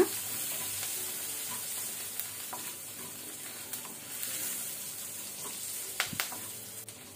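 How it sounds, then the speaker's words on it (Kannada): Garlic and green chillies fry in oil over a low flame, giving a steady soft sizzle with a few small pops and crackles, close and alone without talk. "ಲೋ ಫ್ಲೇಮಲ್ಲಿ ಗಾರ್ಲಿಕ್ ಅದು ಸ್ವಲ್ಪ ಕಲರ್ ಚೇಂಜ್ ಆಗೋ ತನಕ ಫ್ರೈ ಮಾಡ್ಕೋಣ"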